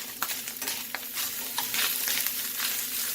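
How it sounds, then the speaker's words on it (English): Pork carnitas crackle and sizzle steadily in a hot pan, a bright continuous fry with small pops and occasional stirring scrapes, close and alone. "I'm going to cook this for about 2 to 3 minutes, looking to add some nice texture to the pork"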